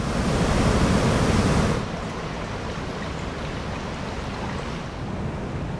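A river flowing high in spate and flooding during the breeding season, with a loud, steady rush of water that drops to a softer, even roar partway through.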